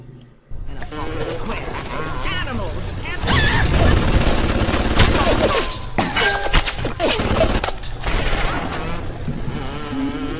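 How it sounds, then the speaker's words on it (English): Security turrets firing at an enemy in Bioshock, loud rapid gunfire with crashes and impacts that keep on for several seconds, under a talking voice. "As you can see, 2 turrets shooting at an enemy kills the enemy almost instantly."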